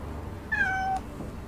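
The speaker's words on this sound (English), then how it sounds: "You can hear my cat probably." A pet cat gives a single clear meow lasting about half a second, nearby and fairly loud over a low steady background hum.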